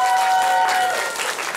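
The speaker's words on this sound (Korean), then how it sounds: "박수 한번 보내주세요." Audience applause at a live concert, a short burst of clapping from a crowd that swells briefly and then fades out.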